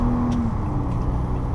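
Steady cabin drone of a 2015 Toyota Camry XLE V6 driving while chasing a Lexus IS, a continuous low engine and road rumble with no talk.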